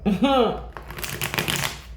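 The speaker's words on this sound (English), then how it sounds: "I had to shuffle this deck." A brief spoken word, followed by a deck of cards riffled in a quick flurry of crisp fluttering clicks.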